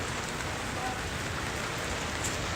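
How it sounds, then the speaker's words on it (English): Heavy rain falling in Orlando, Florida: a dense, steady hiss of drops pattering on surfaces, continuous and fairly close, with no voices. "we got a lot of rain. Lots of rain."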